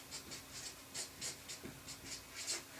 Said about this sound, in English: I'll write that down for you.